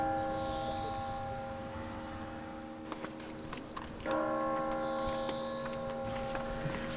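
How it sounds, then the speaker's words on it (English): Bells of Girona Cathedral strike two o'clock in the old town, ringing as repeated metallic tolls over steady ambient hum and distant outdoor background. "So it's 2 o'clock and the bells just went"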